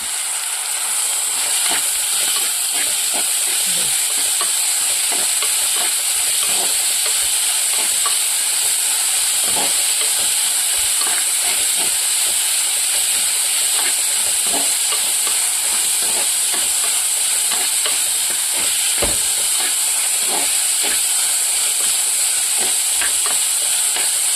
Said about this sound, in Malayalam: നമുക്ക് വാഴക്കൂമ്പ് ഇട്ട് കൊടുക്കാം. വഴറ്റി കൊടുക്കാം.